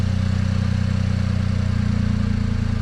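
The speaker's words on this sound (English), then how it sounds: "Sounds like a bit of an exhaust rattle under there maybe." A Mini Cooper engine idles after a clutch installation, a steady low rumble with a constant even pulse and a faint rattle from the exhaust underneath, close and continuous with no talking.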